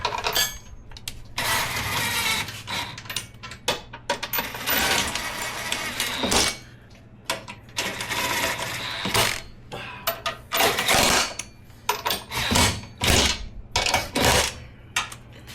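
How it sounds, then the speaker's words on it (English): DeWalt power tool driving trailer hitch bolts on a 2024 Subaru Ascent Touring, loud repeated bursts of whirring and impacting separated by short pauses, close by with no talk. "I'm going to use the D-walt to tighten it down."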